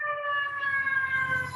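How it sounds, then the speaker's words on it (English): An ambulance siren wails outside in New York City, a steady loud tone under low rumbling traffic, with no talking. "Here goes an ambulance."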